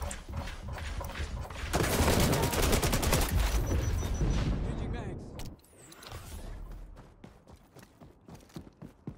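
Automatic gunfire in the online shooter XDefiant during an Escort match, with rapid bursts of shots and clattering action sounds layered close together, loud at first and then tapering off into scattered bursts.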